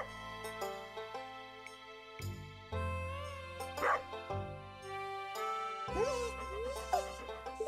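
Puppy barking in the video game Stardew Valley: a series of high, bright yips and little whimpers over chiming, tinkling game music, short bursts spaced irregularly.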